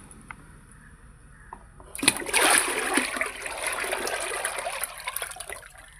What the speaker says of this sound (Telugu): ఇందులో ఈ నీళ్లు పోసేసుకుందాం.